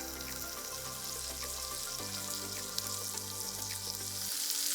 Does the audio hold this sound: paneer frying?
yes